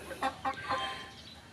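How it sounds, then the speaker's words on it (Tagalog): Four-month-old free-range pullet chickens clucking, a few soft short clucks close by, faint and brief. "Ito na nga pala yung first batch ng mga manok ko"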